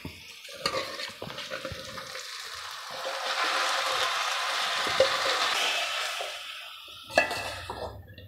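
Banana flower curry with dal stirred in a pan, Nellore style, with scraping and clinking strokes of a spoon at the start and end around a swelling stretch of close frying sizzle.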